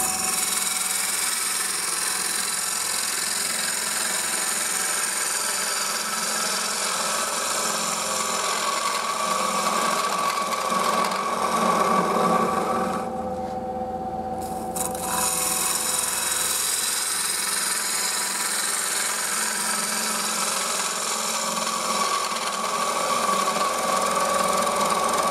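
A wood lathe spins while a bowl gouge cuts into a turning bowl, giving a steady, close scraping and rasping hum that pauses briefly midway before resuming, with no speech.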